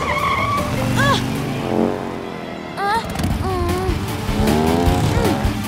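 Cartoon race cars skid off the track on an oil puddle, with loud tire squeals and engine whines sweeping up and down in repeated bursts over a busy, continuous soundtrack.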